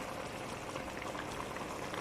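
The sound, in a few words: green chicken biryani masala simmering in a pot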